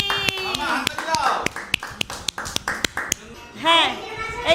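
Sharp, close hand claps in an uneven rhythm at a home New Year gathering, mixed with a voice and adults talking, the clapping stopping near the end as voices continue.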